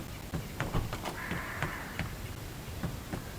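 A crow caws repeatedly in the video game Hello Neighbor 2, giving a series of short, harsh calls at a steady pace over a soft, continuous background hiss.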